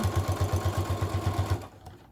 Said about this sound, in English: And I'm sewing.